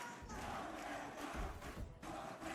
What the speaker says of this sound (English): the crowd is fired up now